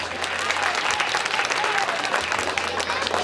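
Audience at a live magic show bursts into sustained applause, dense steady clapping from a full crowd holding at an even level throughout.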